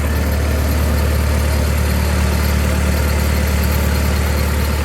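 A Miller SA 200 welder's engine running steadily at close range, a smooth, even low drone with no break and no voices.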